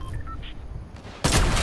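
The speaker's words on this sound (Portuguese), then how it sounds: "Um tiro de sniper, acho." A single loud sniper rifle shot cracks out in a video game, a sudden broadband blast near the end after quieter game sounds.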